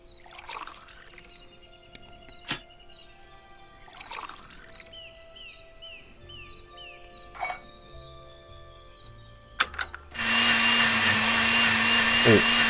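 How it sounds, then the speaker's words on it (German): A blender in the point-and-click game Deponia Doomsday starts up near the end, a loud steady whirring roar that follows quieter game ambience with a few scattered effects. "Tackleberry Finn darf nicht in den Mixer."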